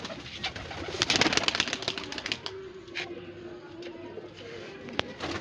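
Desi high flyer pigeons, including a breeding pair, coo softly and low near the handler, with wing flutters and handling clatter up close while someone talks over them.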